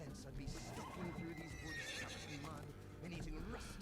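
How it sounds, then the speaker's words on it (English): A horse in Dungeons and Dragons Online neighs and whinnies with clip-clopping hooves, layered over game music and a talking voice throughout. "Now can I get on my horse?"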